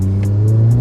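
Skoda Laura fitted with a swapped 2.0L TSI GTI engine and DQ250 gearbox, revving in a steady deep drone with strong low rumble, close and loud throughout, no voices.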